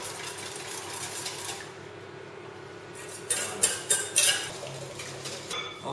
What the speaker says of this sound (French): je vais mélanger le tout avec les œufs et le sucre